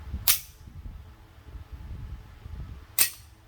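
An unloaded Beretta 92FS pistol dry-fired twice, two sharp metallic clicks about three seconds apart, close and crisp over a quiet, faintly rumbling room.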